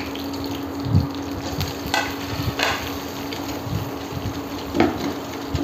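Whole spices, black pepper, bay leaves and cumin sizzle as they temper in hot oil, a steady fizzing hiss broken by a few soft stirring knocks and clatters.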